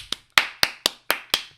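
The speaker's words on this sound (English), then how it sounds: "Clap your hands." A single person claps their hands six times in a steady, moderately fast rhythm, each clap sharp and close with a short decay, set during a line-dance routine at a wedding reception.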